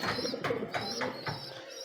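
Racing pigeons coo softly nearby in a short run of four or five rhythmic calls, at a loft awaiting birds flown back from Sorsogon to Santa Maria, Bulacan.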